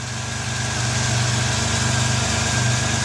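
A small engine idles steadily and close by, a continuous throbbing drone with a fast pulsing rhythm and no pauses, running alone without voices.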